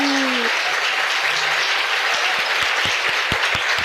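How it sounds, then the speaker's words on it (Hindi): A church congregation claps for the Lord in dense, continuous applause with some sharp individual claps standing out, loud and full over the whole stretch, with a brief voice at the start. "क्या हम प्रभु के लिए एक अच्छी ताली बजा सकते हैं?"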